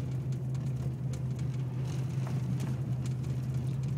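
Ford Mustang driving over a thin sheet of ice on an icy road, heard from inside as a steady, loud low drone with continuous tire and road rumble and faint rattles, with no talk.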